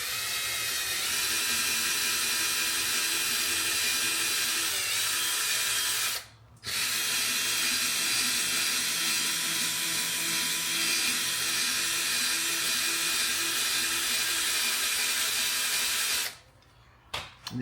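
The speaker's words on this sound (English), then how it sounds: "I'm going to use my buffer, and I'm going to get that out." A power buffer polishing scuffs out of a Tesla's paint whirs steadily and loudly for most of the clip, with two brief pauses where the motor cuts out.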